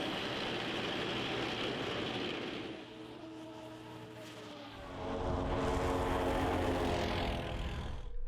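A military drone flies above a frontline supply road in Ukraine, its propeller buzzing in a steady droning whine that swells louder overhead.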